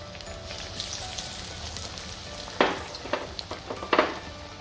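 Steady frying sizzle in hot oil over medium flame, with a couple of sharper crackling bursts as batter-coated fish pieces drop in; moderately close, no talking.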